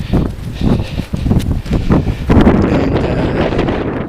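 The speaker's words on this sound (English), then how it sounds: "sorry about the wind again" Strong wind buffets an outdoor microphone during a winter snowstorm, a loud continuous rumbling roar with irregular gusty bursts that thicken into a steady heavy blast in the second half.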